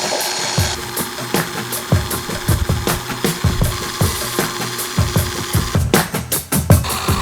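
An automated drilling machine works on a Land Rover Defender hub in a workshop, giving a steady run of close, loud mechanical clatter with repeated rhythmic knocks and ratcheting bursts, and no voices.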